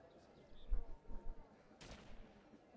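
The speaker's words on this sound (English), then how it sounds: "Got gunfire over there, too." Distant gunshots crack in ArmA 2 on the Takistan map, a few muffled bursts spread irregularly over a quiet backdrop, with a sharp louder report near the end.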